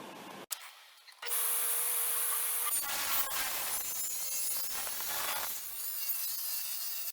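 A table saw cuts wooden tenons for a glass lite panel, starting after a short click with a steady whine and a rough rasp from the blade through the wood. The sound is fairly quiet and continues for several seconds.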